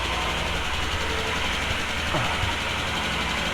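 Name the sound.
Royal Enfield Himalayan engine idling after cold start, tappets clicking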